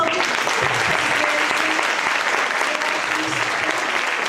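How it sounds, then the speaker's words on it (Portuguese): A crowd of women at a church retreat applauds loudly and continuously, a thick, even roar of clapping from a full room with no break. "E os aplausos são de novo para Jesus. Vamos aplaudir."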